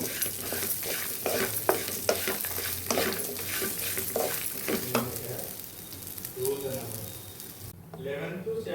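Dried red chillies, ginger and tamarind frying in a pan for ginger chutney, with a steady sizzle and repeated stirring scrapes throughout, fairly close, while a voice talks over part of it.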